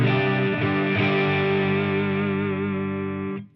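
Fender American Professional Strat through channel 1 of a Victory Sheriff amp at half volume with no pedals, a sustained chord with slight breakup ringing steadily for a few seconds before cutting off, close and alone.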